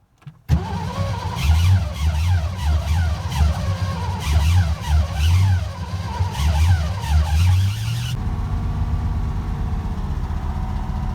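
A cold classic car engine with the choke pulled cranks briefly and catches, then runs loud and close with uneven revving before settling into a steadier idle.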